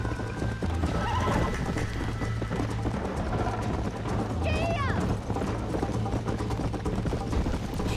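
Horses gallop in the video game Red Dead Redemption, with steady hoof clip-clops and a clear whinny partway through, set against constant game ambience with a person talking over it.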